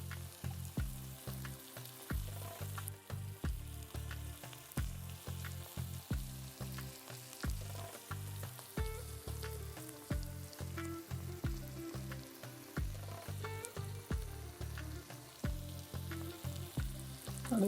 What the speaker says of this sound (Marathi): टोमॅटो टाकून परतून घेऊया।